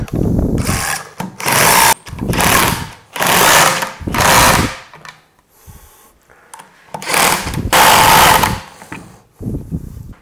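A power drill drives a screw through a washer into a timber frame anchor in repeated loud bursts of whirring, with short pauses between runs.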